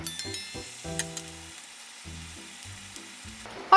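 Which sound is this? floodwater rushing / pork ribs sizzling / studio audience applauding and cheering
pork ribs sizzling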